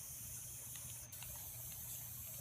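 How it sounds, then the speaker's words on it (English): A spray paint can sprays crystal clear coat during spray paint art: a steady, close, continuous hiss with no break and no talk. "then you want to spray crystal clear where your white spaces are"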